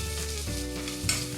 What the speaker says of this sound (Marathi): त्यावर आता आपण कांदा घालूया फोडणीला